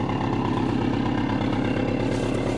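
A Subaru car engine idles steadily just after start-up, a close, even, pulsing rumble held at a constant level with no talking.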